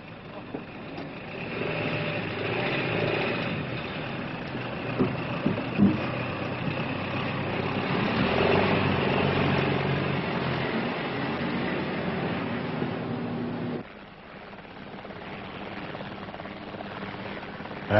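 A steady engine drone of vehicles rolling in a military convoy fills the whole stretch, with a dull rumble and occasional knocks, dropping slightly in level near the end.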